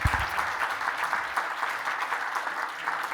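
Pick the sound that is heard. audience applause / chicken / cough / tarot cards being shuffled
audience applause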